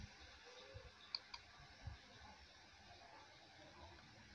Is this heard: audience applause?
no